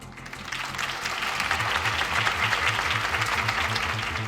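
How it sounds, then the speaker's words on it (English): A crowd at a Harvey Dent campaign rally in the Batman Telltale video game breaks into sustained, dense applause, loud and steady for several seconds with faint voices mixed underneath. "could have heard that applause"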